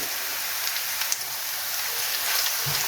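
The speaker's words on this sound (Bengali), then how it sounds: "দিয়ে দিচ্ছি রসুন কুচি, আমি একদম মিহি করে কুচি করে নিয়েছি।" Finely chopped garlic and chopped dried chili sizzle in hot oil for a potato and fenugreek dish, a steady hissing crackle close by with a brief clink near the end.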